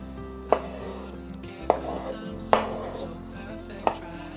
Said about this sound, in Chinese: 把番茄切成不規則的小塊狀